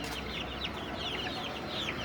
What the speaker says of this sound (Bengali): ব্রাহ্মা মুরগির বাচ্চা